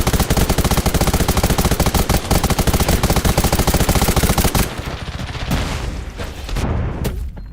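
Rapid automatic gunfire in the mobile shooter Undawn, a loud continuous stream of close shots for several seconds before thinning into sparser bursts and scattered reports.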